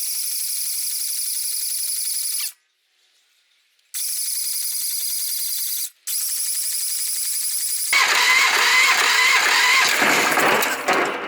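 A Bobcat 310 skid steer repowered with a DuroMax XP440HPE engine cranks on its starter in steady whirring bursts, pausing twice, before the engine catches and runs with a louder, rougher roar.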